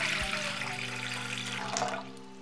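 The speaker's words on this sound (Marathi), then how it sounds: "हे पातेल्यामध्ये आता पाणी ओतून घेऊया" Water poured into a cooking pot, a steady close gushing splash that drops off near the end, no voices.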